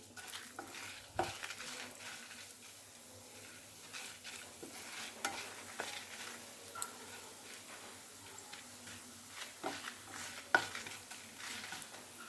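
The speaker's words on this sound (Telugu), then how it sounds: "ఇందాక తీసుకున్న ధనియాలు జీలకర్ర వేయించాలి" Coriander seeds and cumin roasting dry in a pan for a mango chutney, with a steady faint sizzle, soft rustling stirs and occasional small clicks of a spoon against the pan.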